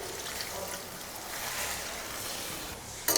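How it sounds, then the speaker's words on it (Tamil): Water poured into bitter gourd thokku in a cooking pan, a continuous rushing splash that holds steady for about three seconds before a sharp clatter at the end. "காய் வேகிற அளவுக்கு தண்ணி ஊற்றிக்கலாங்க."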